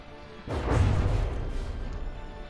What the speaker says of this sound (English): you can see that explosion got in there